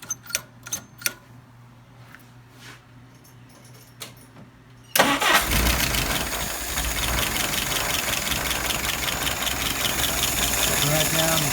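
A rebuilt, restored engine cranks and fires, with some clinks and knocks before it, then settles into a loud, steady idle that runs to the end.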